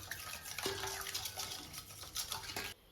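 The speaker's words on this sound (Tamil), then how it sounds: "இதை இப்போ நல்லா கலந்துடும்" A utensil scrapes and swishes through thick idli batter for bajji in a bowl, with repeated soft strokes close by and a faint tonal hum in the background.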